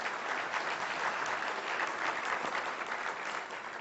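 An audience at a Greater Houston Partnership business forum applauds, a soft, even patter of many hands clapping from across the room that fades slightly at the end.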